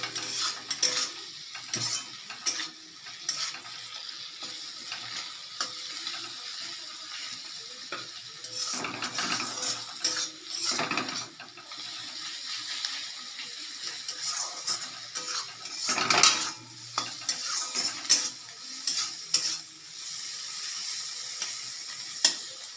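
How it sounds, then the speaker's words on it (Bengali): A spoon scrapes and clanks against a pan in irregular strokes while a soft sizzle of spices, chilli powder and salt being fried runs beneath, with no talk. "এগুলো দিয়ে এবার আমি ভালো করে কষাবো"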